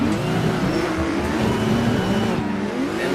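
A race car in Assetto Corsa locking its brakes and spinning out during drift practice: steady engine drone with squealing, wavering tires, loud and close, no talk.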